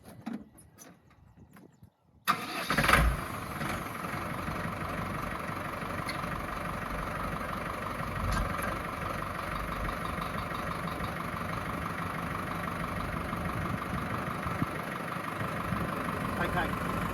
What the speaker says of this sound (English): So I'll just start up the tractor and we'll lift this up